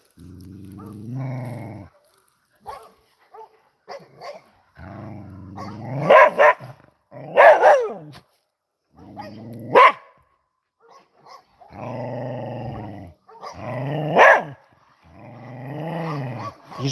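A dog barks and growls in repeated bursts, close and fairly loud, with long rumbling growls between sharper barks.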